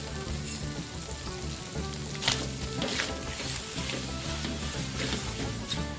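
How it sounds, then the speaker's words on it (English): Squid sambal sizzles and fries steadily in a pan, a dense crackling hiss with occasional louder spits and stirring scrapes, at moderate volume with no talking. "The squid has been cooking for 6 minutes now."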